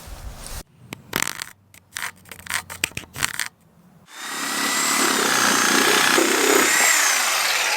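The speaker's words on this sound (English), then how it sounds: "we'll go ahead and use this to drill through" Clattering handling noises and short bursts give way to a steady, loud mechanical whir with a rising whine as a power drill bores through an oak board.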